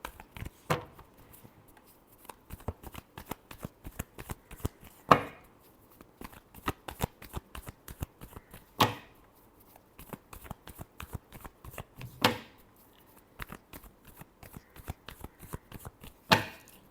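Tarot cards being shuffled by hand, a steady run of crisp riffling clicks and flicks with a few louder snaps at intervals, close and fairly quiet with no talk.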